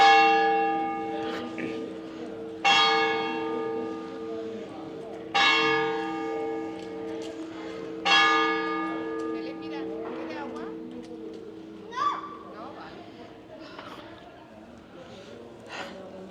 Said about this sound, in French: J'ai eu les cloches, contente.